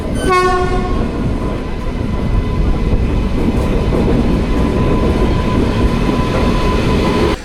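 A train horn blares briefly as a train arrives at an Indian railway station, followed by a loud, steady rumble of rail cars passing close by.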